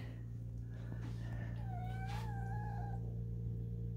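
A feral kitten gives a short rising-and-falling greeting meow, faint and soft, over a steady low background hum.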